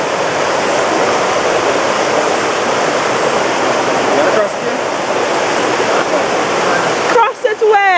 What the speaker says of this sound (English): We got to cross the river.